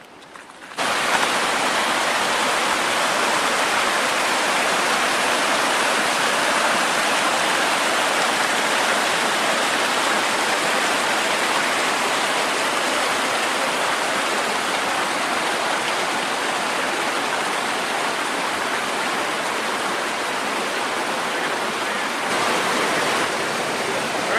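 Steady, loud rush of a waterfall and stream pouring through a micro hydro dam at an Algonquin eco lodge, a continuous broadband roar filling the whole clip with no voices.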